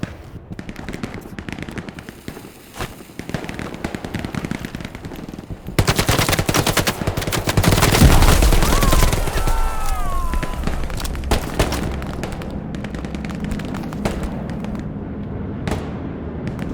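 Rapid machine-gun bursts and heavy gunfire in the Hell Let Loose battlefield, with a tank's prolonged firing swelling loud midway amid booms and scattered shots, then easing back to distant crackling fire.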